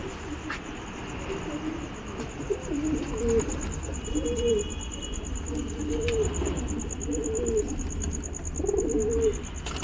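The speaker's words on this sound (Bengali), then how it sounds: "দেখতে পাচ্ছেন কত ছোট সাইজ কত পারফেক্ট পায়রা" Small pigeons coo softly in repeated low bursts, steady across the whole stretch, with faint chirps and insect-like background hiss and no talking.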